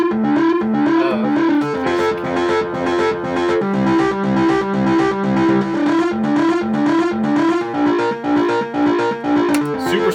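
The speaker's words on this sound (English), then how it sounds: "I like sort of that the saturation it has, the little bit of crunch to it. Got a distortion." An electric guitar with saturated, crunchy distortion, played in a steady rhythmic riff with sustained chords, loud and continuous throughout without any talking.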